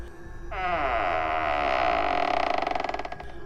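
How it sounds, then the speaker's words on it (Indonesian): A long, drawn-out creak of a door swinging open, starting abruptly and holding a tense, groaning tone that stutters into a rattling vibration near the end. "mendengar suara pintunya terbuka"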